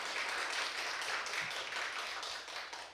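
Lecture audience at Korea University clapping for the dean of student affairs, a soft, fairly steady patter of many hands heard from a distance, fading slightly at the end.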